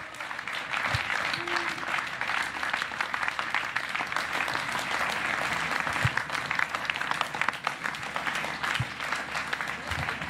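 An audience at a political rally in Yvelines, France applauds steadily throughout, a dense sustained clapping from many hands with a few louder thumps, fairly close, no speech.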